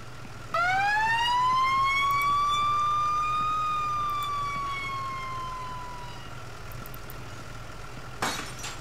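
A fire engine siren in the Into the Flames game winds up into a loud rising wail, then slowly fades away, followed near the end by a sharp burst of breaking glass.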